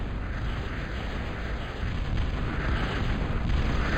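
Missile towers bombarding enemy units in a Total Annihilation strategy match on the Venom's Pond map, a steady dense roar of overlapping explosions and blasts rumbling continuously without pause.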